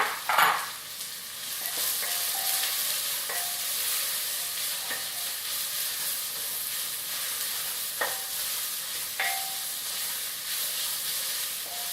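Two heaped teaspoons of minced ginger hit a pan and sizzle steadily for about twelve seconds, a soft continuous hiss with a few faint clinks of stirring, fairly quiet and with no one talking.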